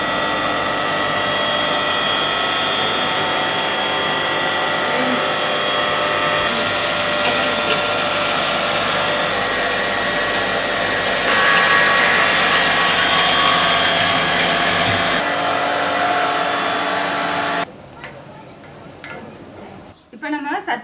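An electric flour mill grinds a health-mix flour of wheat and many other ingredients, giving a loud, steady mechanical roar with grinding hiss. The roar shifts in tone a few times, then drops to quieter rattling near the end.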